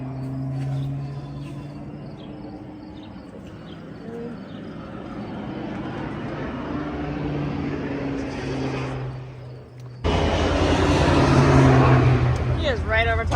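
A low-flying airplane passes over a farmhouse and barn. Its steady drone builds under a person talking and crickets chirping, then turns to a sudden loud, close roar for the last few seconds.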